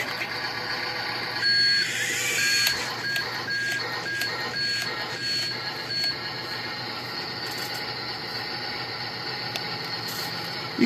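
Huina 1552 remote-control toy front loader, a faulty but working unit, running with a continuous electric motor whir and repeated mechanical clicks and high beeps, fairly quiet and close.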